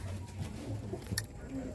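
Low, soft coos of Teddy pigeons repeat in a steady murmur at a pigeon sale in Kolkata, with a quick flutter or clatter midway and faint voices in the background.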